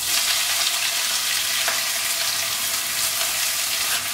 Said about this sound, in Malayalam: ഇത് 3 കൂടിയിട്ട് ഈ വെളിച്ചെണ്ണയിലേക്ക് ചേർക്കാം.